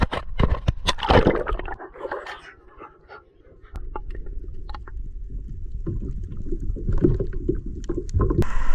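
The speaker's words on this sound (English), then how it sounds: "So we're going to paddle around." A kayak or canoe is paddled across water, with splashy strokes and dripping near at hand, a brief lull, then steady irregular paddling knocks and swishes.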